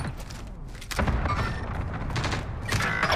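Gunfire in the video game Warzone: a quick burst of sharp shots followed by louder booming, rumbling impacts that continue through the clip, with dense mechanical clatter and no clear speech.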